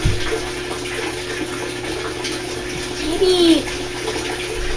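An Amana washer fills with water during its clean washer cycle, a steady hiss of inflowing water with a brief squeaky valve-like tone midway, while someone talks over it.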